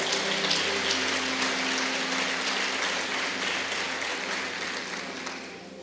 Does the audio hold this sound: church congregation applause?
yes